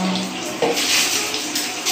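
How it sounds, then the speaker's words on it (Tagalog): Tap water runs from a weak faucet into a sink, giving a steady close splashing rush that continues without a break and rises slightly partway through. "Mahina kasi yung tubig na yun eh."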